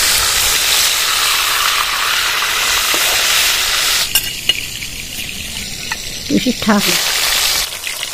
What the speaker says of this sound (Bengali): এইভাবে প্রত্যেকটা মাছ ভেজে নেব।